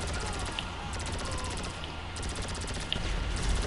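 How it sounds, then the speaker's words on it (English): Rapid pistol gunfire in a competitive video game shooter, shots cracking in quick bursts over a dense, busy battle mix with steady background noise and louder impacts near the end. "I'm getting shot at by a pistol"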